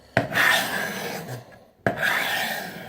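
A knife edge is dragged across a 600 grit sharpening stone to blunt it, two firm gritty rasping strokes close at hand, each starting with a sharp scrape and fading over about a second and a half.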